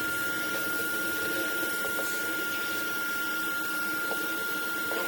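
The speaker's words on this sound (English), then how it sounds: "we're going to hoover it up" A vacuum cleaner hoovers up debris during a raised sleeper pond build, a loud, steady close-up drone with a constant high whine and occasional faint clicks of sucked-up bits.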